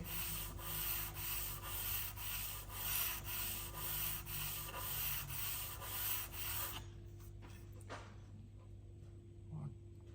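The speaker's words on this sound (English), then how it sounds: "I'm gonna do a little bit of 320 just to, we're gonna take the corners off as well quickly." Hand sanding with 320 grit sandpaper on a Quangsheng 5 1/2 bedrock bench plane, about a dozen steady rhythmic rasping strokes close by, then stopping into quiet.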